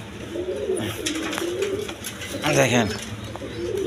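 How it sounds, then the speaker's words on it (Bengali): A pair of American fantail pigeons coo nearby in soft, rolling bursts, while someone speaks over the calls. "এখানে এক পেয়ার ফ্যান্টাল কবুতর আছে দেখেন, আমেরিকান ফ্যান্টাল।"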